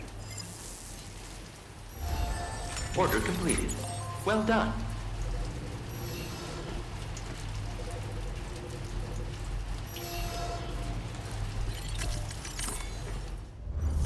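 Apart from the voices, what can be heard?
rain falling in the video game Death Stranding 2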